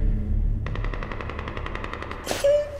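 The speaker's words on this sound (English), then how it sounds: "What's that, gunshots?" Rapid bursts of automatic gunfire rattle steadily at a moderate distance, ending with a louder sharp blast and a brief ringing tone.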